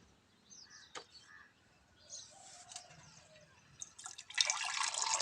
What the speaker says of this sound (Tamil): நல்லா டீ ஆற்றுற மாதிரி ஆற்றி எடுத்துக்கோங்க